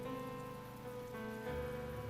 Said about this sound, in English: Couldn't we at least catch a break on this rain?